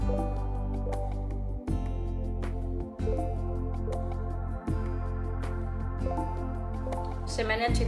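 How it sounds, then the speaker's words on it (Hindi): Eggplants are washed by hand in water, giving wet sloshing and dripping sounds with short gaps between handfuls, fairly close and moderately quiet. "इसे हम अच्छी तरह धो लेंगे।"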